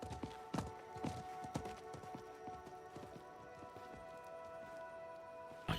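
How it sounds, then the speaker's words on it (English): A horse's hooves clip-clop on the ground in the Diablo IV video game, a quick run of sharp, distinct knocks that slows to scattered hoofbeats over quiet game ambience. "I think that was the merchant's horse."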